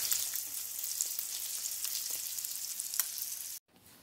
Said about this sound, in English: Fry in a little bit of butter